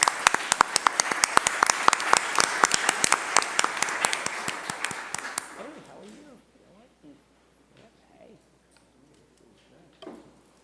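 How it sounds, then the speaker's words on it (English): A crowd gathered to honor child care providers applauds warmly for about five seconds, dense claps that thin out and fade, followed by quiet room sound and faint murmuring talk. "I'll give them a round of applause as they come up."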